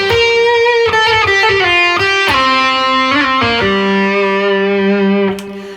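An electric guitar through a modeller plays sustained distorted notes and chord changes, a loud lead tone wrapped in a halo-style multiple-echo delay that smears each note into a soft ringing tail.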